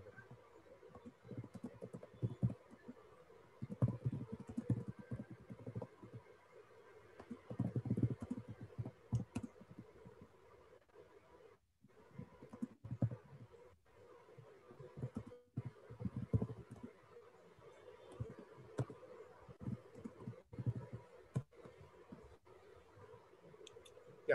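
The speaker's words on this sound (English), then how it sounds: "I'm typing that." Keyboard typing in irregular bursts of soft clicks and taps, with brief pauses between runs, fairly close and moderately quiet.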